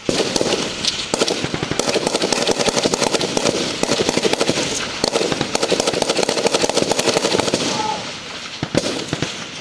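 A security team firing guns together in a coordinated volley during an arrest operation, dense continuous rapid cracks of many shots overlapping, loud and sustained throughout.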